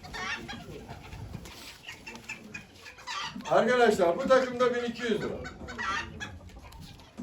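Porcelain leghorn chickens cluck and call at a poultry auction in Ankara, several birds close by in bursts, with someone talking over them throughout.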